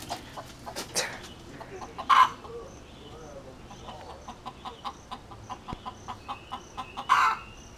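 A chicken clucks in a steady series of short, soft clucks close by, with a couple of louder squawks or rustles standing out and faint outdoor background throughout.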